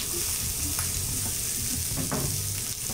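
Green, red and yellow capsicum with onions and chilies hiss in a hot pan for a warm chana salad, a dense continuous sizzle up close with occasional stirring clatter.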